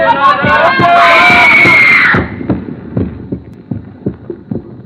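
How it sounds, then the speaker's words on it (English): In a radio drama, a crowd's voices swell into a loud, high woman's scream that holds for about two seconds, then drops away to a murmuring crowd. "the same voices I heard in that crowd, rising again and again to the climax of a woman's scream"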